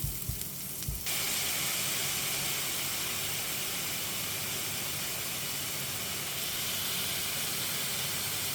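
Garlic and namul greens stir-fry in a pan with a loud, steady broadband hiss and sizzle that begins abruptly after a brief pause and holds constant up close.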